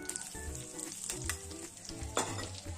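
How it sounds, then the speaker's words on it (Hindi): Maida flour frying in ghee in a pan for panjiri, a dense steady sizzle with stirring scrapes throughout, close and fairly loud, no talking. "अब हम पंजीरी के लिए इसमें घी डालेंगे। अब हम मैदा डालेंगे।"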